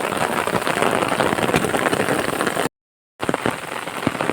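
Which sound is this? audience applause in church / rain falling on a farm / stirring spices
rain falling on a farm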